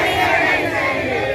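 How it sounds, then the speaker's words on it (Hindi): A large street protest crowd chants slogans in a loud, dense roar of many voices, continuous throughout the short stretch. "बहुत बड़ा प्रोटेस्ट निकला हुआ है"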